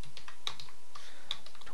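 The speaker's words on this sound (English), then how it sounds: "We're going to type toe twist" Keystrokes on a computer keyboard while entering attribute names in Maya for a Minecraft character rig: a short run of sharp, fairly close clicks, with a couple of distinct louder taps standing out over a quiet room.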